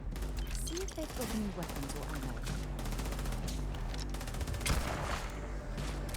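Gunfire in the video game Starfield, rapid bursts of shots rattling continuously over a busy game soundscape, with a voice speaking faintly underneath.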